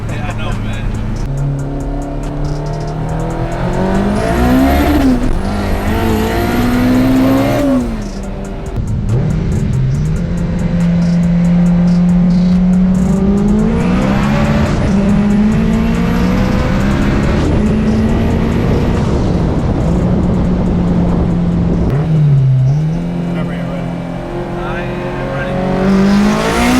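A K24 turbo-swapped all-wheel-drive R53 Mini Cooper drives hard, its engine droning loud and close as it revs up and down through gears, with turbo whistles and a brief lift-off before pulling again; voices talk over it.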